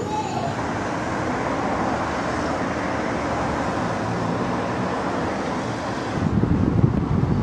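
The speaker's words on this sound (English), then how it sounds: "it's a bit breezy up here, eh?" Wind blows across a rooftop above a supermarket on a breezy, muggy day, a steady loud rushing roar buffeting the microphone throughout, with a heavier gust near the end.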